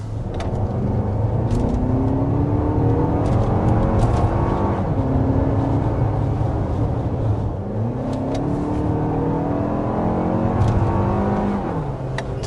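A 2024 three-row SUV with a 3.5-liter V6 engine accelerating, heard from inside as a loud rising whine and engine roar that climbs in pitch twice, shifting between the runs, with no talking.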